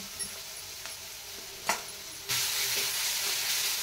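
Chopped onion fries on full flame with ginger, garlic and green chili paste. A few soft spoon scrapes give way to a loud, steady sizzle that breaks out partway through and carries on to the end.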